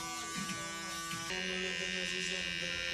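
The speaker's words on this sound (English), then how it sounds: "Using my trimmer, I'm going to create the side line" Electric hair trimmer buzzing steadily at close range while shaping a side line for a mid skin fade with beard, with a slight pitch change partway through as it cuts hair; no voices.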